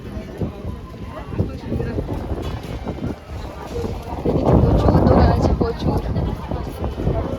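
Strong wind blusters across the microphone with a low, steady roar, swelling louder midway, as if standing on an open shore.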